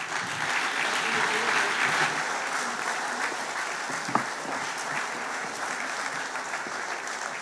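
An audience applauds at the Wirtschaftspreis Altmark 2022 business award ceremony, a full, steady round of clapping from a large hall that tapers slightly toward the end, with one sharp knock in the middle.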